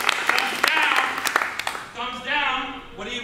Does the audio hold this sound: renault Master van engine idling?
no